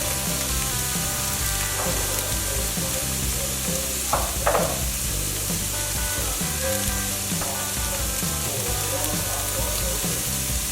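Tofu frying in a pan with Trader Joe's chickenless seasoning, a loud steady sizzle and crackle running throughout with a few brief clinks of stirring, no voice.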